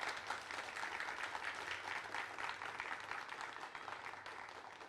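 Residents of the Sai Upvan housing society in Noida clap together at an outdoor public forum, a faint but dense wash of many hands that holds steady for several seconds and eases slightly toward the end.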